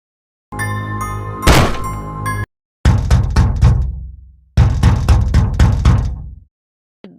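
Loud, repeated banging on a door in two long bursts of rapid thuds, after a short stretch of tonal sound.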